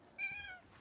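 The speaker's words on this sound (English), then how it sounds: "That's a cat." A cat gives a single short, faint meow, heard alone against quiet room background.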